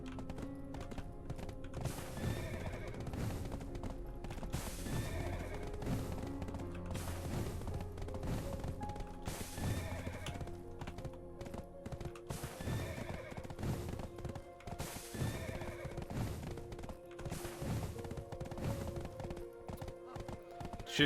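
Horse hooves clip-clop steadily with repeated neighs and whinnies in the online game Black Desert Online, alongside game ambience and occasional speech.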